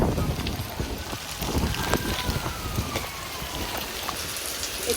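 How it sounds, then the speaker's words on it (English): Rain falls outdoors in Salem, Massachusetts, a dense, steady patter with light wind buffeting the microphone, continuous and fairly close. "It's raining."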